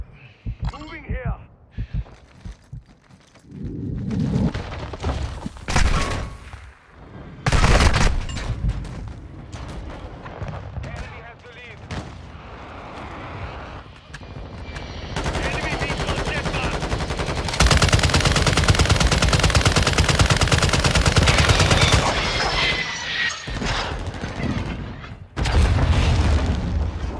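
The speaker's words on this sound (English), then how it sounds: "Taking enemy fire!" Call of Duty: Modern Warfare II multiplayer combat, with repeated gunshots, shotgun blasts and sustained automatic fire, loud and close over a dense rumbling background, broken by heavy booms.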